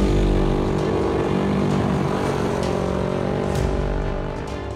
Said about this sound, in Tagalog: Makikitang humaharurot ang mga rider at nagpapagalingan sa stunts.